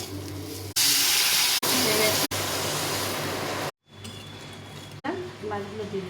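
Ground cumin, coriander, chilli powder, salt and turmeric frying in a pan as the base for a Bengali fish curry, heard as loud broadband sizzling hiss in bursts broken by short gaps, with brief voice sounds toward the end.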